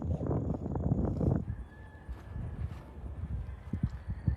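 A Friesian-Percheron cross gelding trots past on the ground, with a burst of rapid hoofbeats and steady rhythmic footfalls that continue more softly, mixed with light wind noise.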